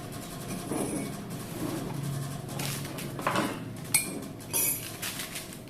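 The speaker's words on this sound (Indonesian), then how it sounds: "Ini ada 2 sendok makan. Ini mau saya aduk-aduk ya." A spoon stirs two tablespoons of full-cream powdered milk into coffee in a cup, giving soft scraping with a few light clinks near the end, close and fairly quiet, with no talking.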